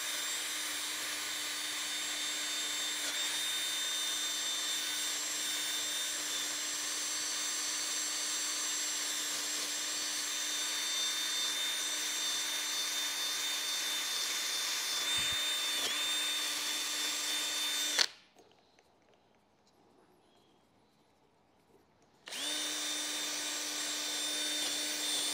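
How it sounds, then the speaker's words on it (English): A drill spins a wire brush against a metal rotary table, a steady high whine with a scratchy grinding edge, close and continuous, cutting out briefly near the end and then resuming. "I'll just use a wire brush on the drill."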